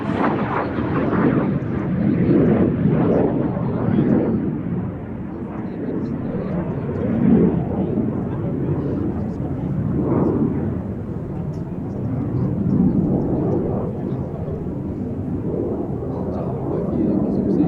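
A Canadair Sabre jet flies at an air festival, its loud, low roar swelling and fading in long waves as it passes, with a voice talking over it.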